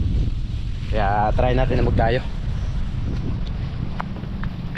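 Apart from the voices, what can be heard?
wind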